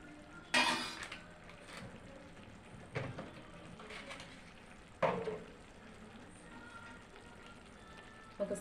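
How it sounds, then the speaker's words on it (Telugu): Spices with turmeric, chili powder and salt frying in a pan for fish curry, a soft low sizzle punctuated by a few sharp scraping and stirring clatters, near and fairly quiet. "ఇవన్నీ బాగా కలుపుకొని ఒక 10 మినిట్స్ వేగనివ్వాలి."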